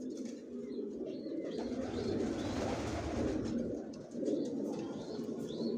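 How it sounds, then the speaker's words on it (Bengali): Racing pigeons coo steadily in a home loft, a continuous low throbbing chorus of several birds heard close by, with faint chirps over it and no talking. "কোয়ালিটি সম্পন্ন কবুতর পালি"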